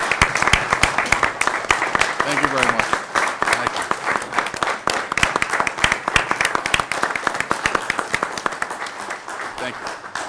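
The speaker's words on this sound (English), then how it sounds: "I want to give you a nice round of applause from all of us" Applause at a township committee meeting, a crowd clapping steadily and fairly loudly for several seconds while someone speaks briefly over it near the start.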